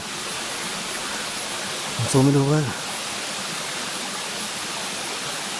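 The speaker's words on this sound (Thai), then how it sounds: "น้ำตกเสนเสนตำบลบางพระอำเภอศรีราชาจังหวัดชลบุรี" A waterfall in Bang Phra, Si Racha, Chonburi gives a steady, loud, even rushing roar throughout, with someone talking briefly over it midway.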